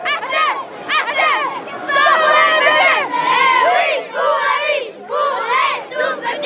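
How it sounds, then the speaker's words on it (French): Young anti-abortion marchers in a street protest shout together in a loud, rhythmic chant, with bursts of massed voices rising and falling close by. "Dans la foule, beaucoup de jeunes venus tonner contre l'avortement."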